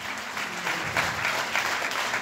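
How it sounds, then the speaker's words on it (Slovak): Applause from an audience at a live Slovak music show, a steady wash of clapping hands filling the room, moderately loud and sustained throughout with no talk over it. "Veľký potlesk."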